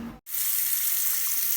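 Water runs steadily from a tap after a brief silent gap, a continuous hiss that holds at even strength to the end.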